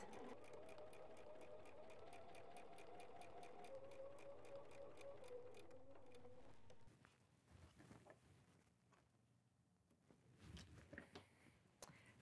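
A sewing machine stitching fabric runs in a steady, close rhythmic whir for several seconds, then stops, leaving quieter handling noises.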